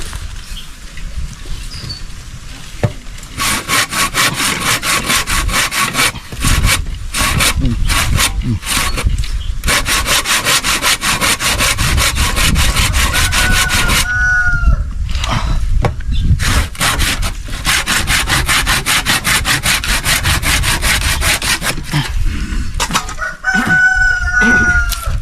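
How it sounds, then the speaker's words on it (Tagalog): Dull hand saw cutting ipil-ipil wood for firewood, a long run of loud rhythmic rasping strokes with brief pauses, while roosters crow and chickens cluck in the background. "Wala nang talas ng niyagari."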